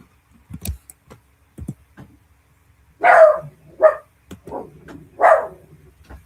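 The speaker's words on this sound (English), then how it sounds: "Sorry for the dog" A dog barks a few times nearby, loud gruff barks spaced about a second apart, with a few faint ticks and taps before them.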